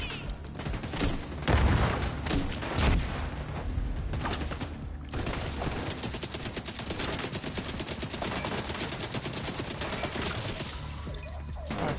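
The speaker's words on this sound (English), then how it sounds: "Who is shooting us over here?" Steady gunfire in a video game firefight, dense rapid shots and bursts running nonstop for the whole stretch, loud and close, with a couple of heavier booms early on.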